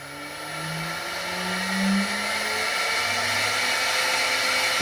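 The spindle motor on a homemade CNC machine whirs up to speed, a steady airy whine whose tones glide upward and swell gradually in loudness, with no one talking.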